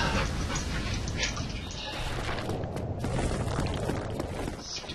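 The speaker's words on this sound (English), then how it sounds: "Wife's dog and my in-laws' dogs are here beating on me" Dogs in a house pant and whimper close by, with a small yip, under constant game sound and some talk.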